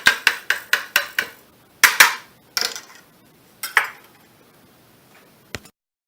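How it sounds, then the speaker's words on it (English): Two brown eggs beaten in a bowl with a utensil: a rapid run of sharp clinks against the bowl, then a few separate taps and knocks trailing off into quiet. "So we'll beat those good."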